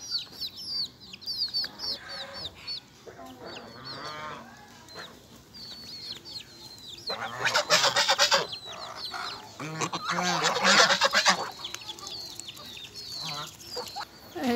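Domestic geese honk and chatter in a farmyard alongside clucking chickens, a mix of calls rising into louder bursts of overlapping honks near the middle, no speech.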